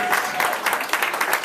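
A brief round of applause from the crowd at a Chicago celebration of a Black LGBTQ marriage victory, a moderate patter of many hands clapping at once.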